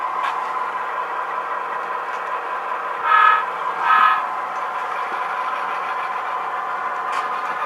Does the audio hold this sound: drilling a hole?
no